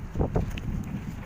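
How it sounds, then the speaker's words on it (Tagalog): Outdoor wind buffets the microphone, producing low rumbling gusts and muffled thumps throughout a short moment with no voices. "Mahangin po guys."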